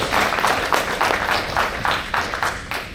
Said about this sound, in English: And everyone else, could you please join me in giving Dreamy a round of applause?